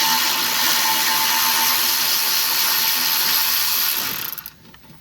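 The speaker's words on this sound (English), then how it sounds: "I already have 3 screws out. Let me get this other one off." Ratchet or power driver backing screws out of a PT Cruiser engine center mount, a loud, continuous rapid clicking whir that stops abruptly near the end, close by with no talk.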